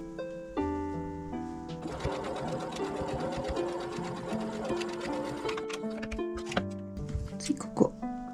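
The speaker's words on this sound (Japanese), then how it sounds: "この線を揃えるようにしてでここを今度縫っていきます。" A sewing machine stitches stretch fabric in a close, continuous mechanical run, its whirring motor and rapid needle clatter carrying steadily, with a brief slowdown and a few knocks near the end.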